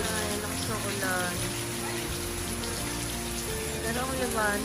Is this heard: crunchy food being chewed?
no